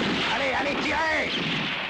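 Gunfire in a Western film shootout, a dense, continuous roar of blasts that fills the short stretch loudly with no gaps between shots, while a voice shouts over it.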